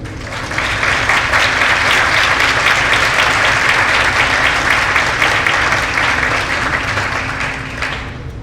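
An audience at a public health lecture applauds the introduction of a professor, loud sustained clapping that fills the room for about eight seconds before tapering off.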